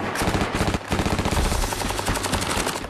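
SAW light machine gun laying down suppressive fire at a rate near 800 rounds a minute, a loud, continuous rapid burst of closely spaced shots with a brief gap near the start and no talk.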